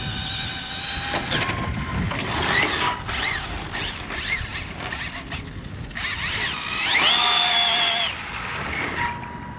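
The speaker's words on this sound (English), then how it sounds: "I think instead of accelerating, it's just spinning the tires." An Arrma Infraction RC car with solid rubber tires spins its wheels as the electric motor whines up and down in pitch. The sweeps are repeated and close, with tire scrabble on the ground and a longer rev near the end.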